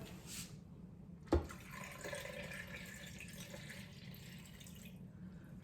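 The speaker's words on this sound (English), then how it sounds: "continue adding my water" Water poured into a slow cooker over raw beef hearts: a soft click, then a low, steady pour that runs quietly for several seconds.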